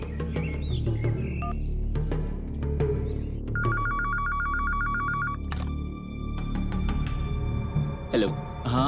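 A home landline telephone rings with a steady electronic trill in a short burst, surrounded by clicks, bird chirps and background music.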